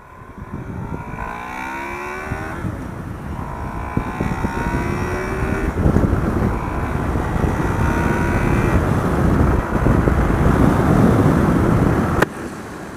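A Honda Crossrunner motorcycle engine revs hard through several gears, VTEC kicking in around 5,000 RPM, its pitch climbing sharply each time before dropping at the shift. Loud and close, with a strong roar building.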